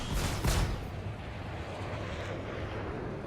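Missile launch and explosion in a video game, a loud burst of blast noise at the start fading into a long low rumble.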